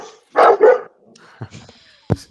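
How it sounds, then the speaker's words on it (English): A household dog barks twice in quick succession close by, followed by a few fainter sounds and a sharp knock in an otherwise quiet room. "We have a dog."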